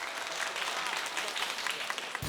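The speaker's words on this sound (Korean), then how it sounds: "다시 한번 CJ 레이싱에 큰 박수 부탁드리겠습니다" A studio audience applauds the CJ Racing team at a KartRider Battle Royale esports broadcast, a dense, even roar of clapping that holds steady for about two seconds with no talk on top.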